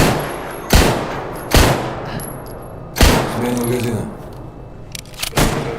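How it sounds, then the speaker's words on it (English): Several single .45 ACP pistol shots in S.T.A.L.K.E.R. GAMMA, sharp loud cracks spaced roughly a second apart, with a voice talking between them. "I am using a pistol, but it's 45 ACP"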